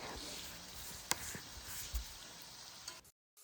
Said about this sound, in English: you would just be browning your rabbit into your lard